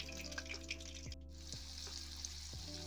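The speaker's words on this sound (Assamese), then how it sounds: "মাছ কেইপিচ হাফ ফ্ৰাই কৰি ল'লোঁ।" Pieces of catfish half-fried in hot oil in a wok sizzle with a steady, close crackle and an underlying hum, with no talking.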